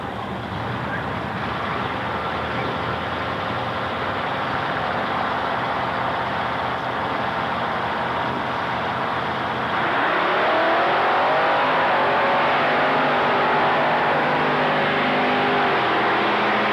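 A 1971 Plymouth drag race car with a 440 cubic inch engine at an early-1980s drag strip, a loud sustained engine roar that swells and climbs in pitch as it accelerates away near the end.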